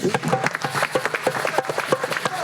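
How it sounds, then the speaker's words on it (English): Audience applause at a club celebration event, a steady mass of dense overlapping claps carrying on without a break, fairly loud and close. "let me hear a round of applause again"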